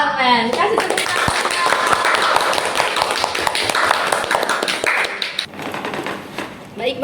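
A podcast studio audience claps steadily for several seconds, a dense patter of hands that fades near the end.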